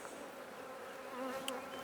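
Honey bees buzz in a low, even drone during a Langstroth hive inspection, a close steady hum with slight shifts in pitch and no talk.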